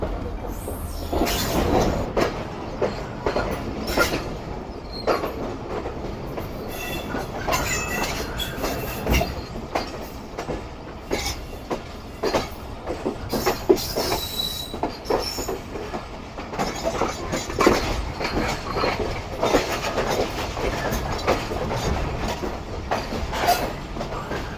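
Rehman Baba Express rolling through Kothi Junction without stopping, with loud, continuous rumble, rhythmic wheel clatter and occasional squeals, close by throughout.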